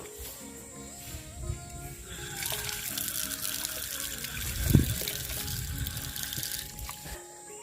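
Running water splashes steadily from a temple water tank where feet are washed, a continuous broadband rush that swells slightly midway with a brief louder splash, heard fairly close.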